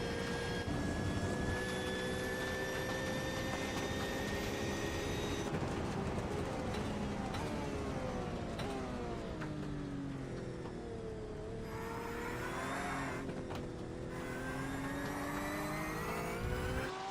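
An onboard race car engine in an endurance esports race at Spa-Francorchamps, heard in a racing video game, revs hard and shifts through the gears, its pitch climbing, dropping and climbing again, loud and close with no talking.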